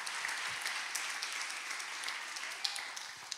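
A church congregation applauding, with dense, steady clapping from many hands continuing throughout at a moderate distance.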